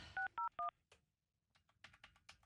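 Three short, evenly spaced telephone keypad tones, clear and close, as digits are dialed on a phone; a mistyped digit slips in, and faint tapping and handling noise follows.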